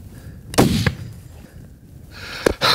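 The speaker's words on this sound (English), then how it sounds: "Shoot him again." Rifle shots during a bull elk hunt in Wyoming: two sharp, loud cracks about two seconds apart, each with a brief rolling echo in open country, over quiet outdoor background.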